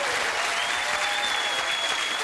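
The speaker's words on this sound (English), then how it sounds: "Come on, give her a round of applause." Studio audience of the 2002 game show Catchphrase applauding a contestant, a thick continuous roar of clapping held at an even level throughout with faint voices mixed in.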